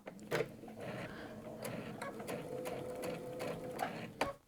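Sewing machine stitching a jacket collar onto bias binding, a quiet, steady mechanical whir with light ticking running throughout, heard close, with a soft voice speaking over it.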